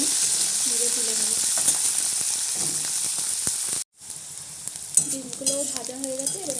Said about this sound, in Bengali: ডিমগুলোও ভাজা হয়ে গেছে, এবার আমি ডিমগুলোকে তুলে নেব।